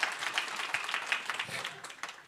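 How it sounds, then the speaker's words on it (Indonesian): Audience at a church retreat bursts into applause, a quick patter of many hands clapping that rises and then thins out over a couple of seconds. "Nah, tepuk tangan"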